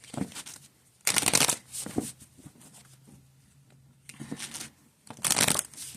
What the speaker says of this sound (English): let's get a better shuffle here